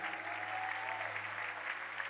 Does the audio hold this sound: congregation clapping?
yes